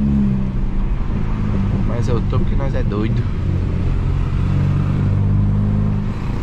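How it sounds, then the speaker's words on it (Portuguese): A VW Jetta TSI with a stage 2 tune accelerates, its engine droning steadily from inside the cabin as someone talks briefly over it. "Não sei nem se eu devia estar acelerando desse jeito"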